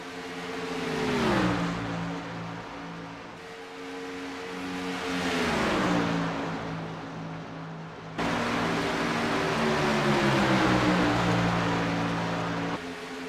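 Race cars roaring around a track in a televised race, engines loud and close, with repeated passes whose pitch sweeps downward as each car goes by, followed by sustained high-revving drones.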